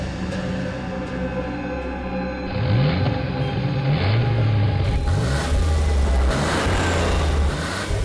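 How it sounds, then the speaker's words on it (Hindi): Car engine revving loudly nearby as the vehicle swings around to face the listener, rising and falling throttle sweeps over a steady rumble, with no voices. "ये गाड़ी हमारी तरफ क्यों घूम गई है?"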